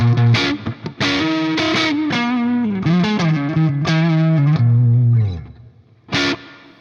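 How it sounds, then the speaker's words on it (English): Electric guitar played through a POLY Verbs stereo IR reverb pedal, loud sustained chords and single notes with a lush, long reverb tail that rings on after each phrase, ending with a short final strum. "I'm excited about stereo IR Verbs"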